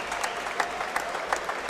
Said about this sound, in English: could we please have a big round of applause for both of our